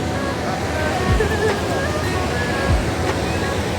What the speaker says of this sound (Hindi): ये देखो पानीमूर वाटरफॉल